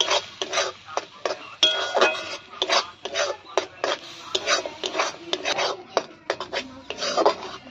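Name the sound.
stirring sour spinach chutney with sugar in a pan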